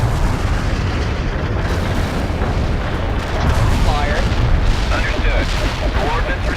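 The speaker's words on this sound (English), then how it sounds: "Heavy artillery barrage." Heavy artillery barrage in the game World in Conflict: a dense, continuous roar of booming explosions layered into a sustained rumble, loud and unbroken throughout, with faint chatter in the background.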